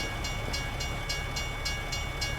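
A train rolls past in American Truck Simulator, a steady rumbling roar with evenly spaced rhythmic clacks of wheels on rail joints, close and continuous for its whole length.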